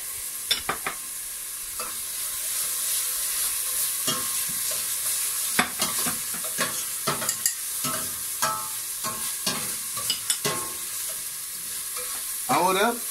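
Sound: garlic frying with onion in pan

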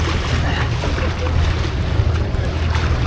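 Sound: catamaran leaving the marina

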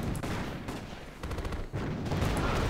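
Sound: bombardment and gunfire in Axis & Allies video game

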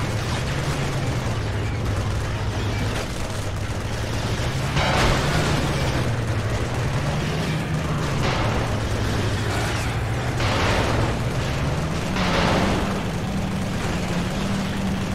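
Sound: gun firing in video game Resistance: Fall of Man

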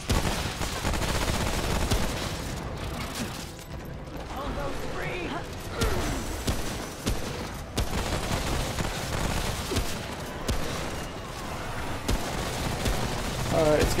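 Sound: gunfire in the video game Remnant: From the Ashes

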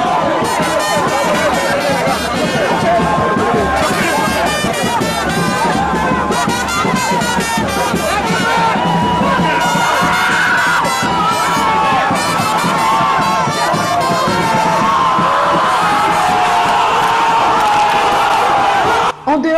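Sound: supporters singing and cheering

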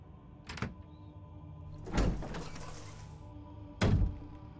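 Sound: door opening in the video game Resident Evil HD Remaster

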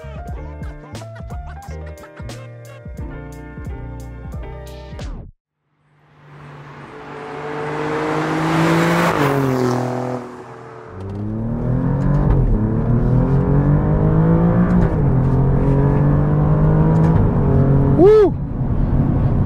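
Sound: 2023 Alfa Romeo Giulia Quadrifoglio engine accelerating

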